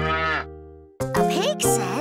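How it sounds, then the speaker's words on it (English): Cow mooing in a toddler farm song: one loud, low, drawn-out moo up front, then busier bright sounds follow. "A cow says..."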